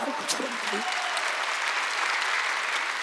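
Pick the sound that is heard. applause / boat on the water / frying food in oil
applause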